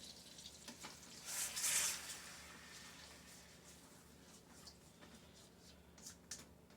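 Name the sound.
garlic sizzling in a frying pan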